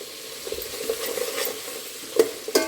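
Vegetables frying with fenugreek, coriander and curry leaves, a close, loud sizzle with brisk stirring and a few sharp clinks of the utensil against the pan, no talking.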